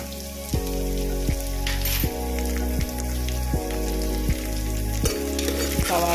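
Onions fry in oil in a pan for chicken curry, giving a steady, close sizzle throughout, with background music playing underneath.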